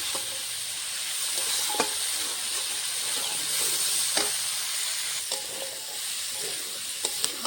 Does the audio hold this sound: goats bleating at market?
no